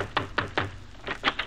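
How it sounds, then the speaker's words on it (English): Three sharp knocks on a door in an old-time radio comedy show, evenly spaced and close, followed after a short pause by another quick triple knock. "Well, let's see what a knock here will start."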